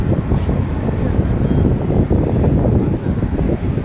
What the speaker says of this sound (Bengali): খুব ভালো লাগছে, প্রচন্ড বাতাস।